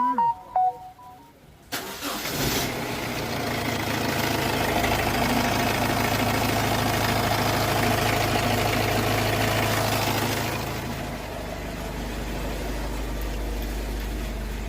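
Honda WR-V car engine started and left idling after a timing kit job in a workshop, a steady close mechanical hum that runs on without pause and then eases to a lower, quieter idle near the end.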